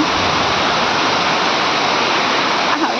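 Torrential morning rain falls near a veranda, a thick constant roar of water that stays loud and even throughout, with a faint brief knock near the end.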